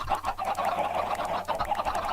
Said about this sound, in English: as you might hear, I have added chickens